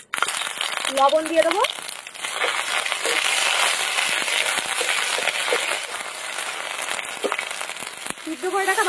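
Ginger-garlic paste hits hot mustard oil in a pan and gives a steady, bright sizzle that crackles for the whole stretch, while someone talks over it.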